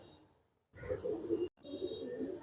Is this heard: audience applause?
no